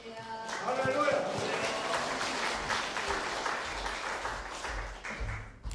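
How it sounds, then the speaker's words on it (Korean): A church congregation at a revival service applauds in a dense, steady wash of clapping that fills the room, with a few voices mixed in. "할렐루야로 박수해 주시기 바랍니다"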